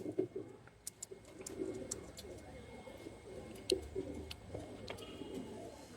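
Teddy pigeons in a cage coo in soft repeated low calls with faint rustling and small clicks, fairly quiet and close.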